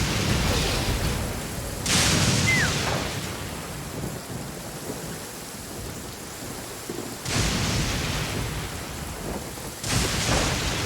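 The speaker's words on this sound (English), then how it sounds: "Rain." Heavy rain in Genshin Impact, a constant loud hiss of falling water with rumbling thunder bursts breaking in around two, seven and ten seconds.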